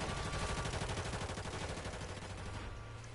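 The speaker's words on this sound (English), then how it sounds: "They're shooting at me." A dense, continuous rattle of automatic gunfire in Call of Duty MW3/Warzone, loud and sustained, fading slightly toward the end.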